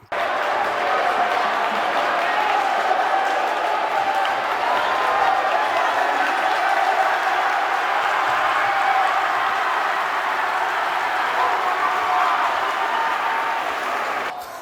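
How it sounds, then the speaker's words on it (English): A high school basketball crowd cheers and applauds after a dunk by a 6'8" player, a loud, dense, sustained roar of clapping and voices holding steady for the whole stretch before dropping off at the end. "Got the crowd shaking with this dunk."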